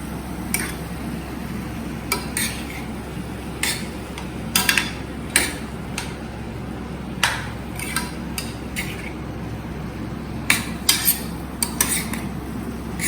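A spoon stirs bottle gourd simmering in milk in a pot over a high flame, giving scattered metallic clinks and scrapes at an uneven rhythm over a steady low burner hum, with no talking.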